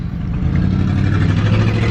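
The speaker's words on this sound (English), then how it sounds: "Traffic jam in small town, 5 cars." Several cars, about five, idle and creep through a blocked intersection in a small town, with a steady mid-pitched engine hum close by and no talking.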